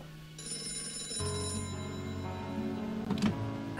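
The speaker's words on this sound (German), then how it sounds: "Woher wusstest du, dass das Telefon klingeln wird?" A telephone rings in the video game Gray Matters, a bright electronic bell tone trilling clearly and alone over a soft ambient background for a few seconds.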